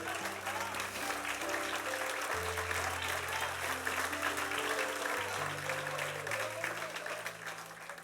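A church congregation applauds steadily for several seconds, the clapping fairly soft and even, set under sustained organ or keyboard chords, with no one speaking over it.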